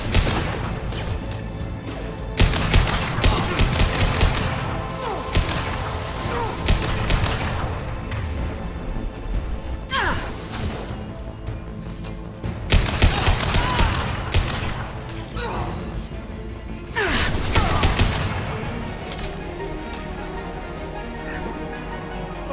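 Dense gunfire in Mass Effect 2 with rapid bursts, heavy booms and crashing impacts in repeated loud volleys over about twenty seconds, a battle that barely lets up.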